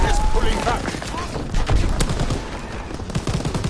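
Rapid bursts of machine gun fire from a player-built MG emplacement in a multiplayer war video game, loud and continuous with dense overlapping shots and booms across the whole stretch, tanks and battle noise mixed in.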